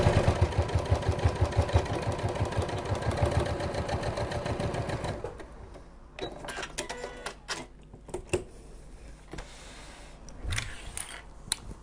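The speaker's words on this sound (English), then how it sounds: "I'm just running a few extra stitches over the pleated areas." A sewing machine runs steadily with a fast rhythmic stitching chatter while extra stitches go over pleated fabric for a medication bag organizer, then slows into intermittent clicks and handling noises.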